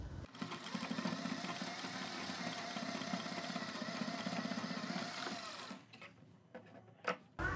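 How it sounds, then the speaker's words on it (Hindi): A sewing machine runs steadily for several seconds, stitching the edge of a kurti collar with buckram interfacing, then stops and gives way to a few short handling knocks near the end. "अब इसके ऊपर हम कन्नी की सिलाई लगाएंगे।"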